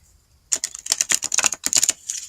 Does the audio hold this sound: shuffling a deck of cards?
yes